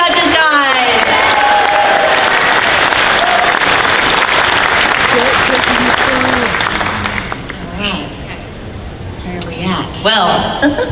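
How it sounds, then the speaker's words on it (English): An audience at a Dragon Con Friday night costume contest applauds and cheers loudly for the judges, with whoops and laughter, then the clapping thins out while voices carry on. "A big round of applause for our amazing judges, guys."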